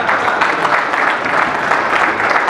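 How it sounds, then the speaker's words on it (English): A conference audience at a capital-formation panel discussion in Fort Lauderdale gives steady, loud applause, a dense clatter of many hands clapping continuously with no pauses. "Well-deserved round of applause."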